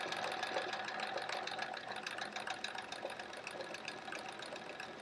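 A sewing machine free-motion quilts a swirl on a quilt block, its needle chattering in a rapid steady rhythm, quiet and close, running continuously with slight shifts in speed and no talk.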